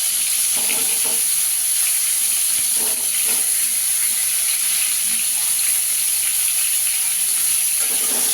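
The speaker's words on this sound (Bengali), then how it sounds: "এবার পটলটা ভেজে নেব।" Salted, turmeric-coated pointed gourd pieces fry in oil with a constant loud hissing sizzle, a few soft stirring knocks breaking through now and then.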